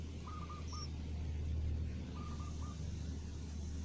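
A baby bird that has fallen from a tall tree gives two short bursts of thin, repeated peeping calls over a steady low outdoor rumble.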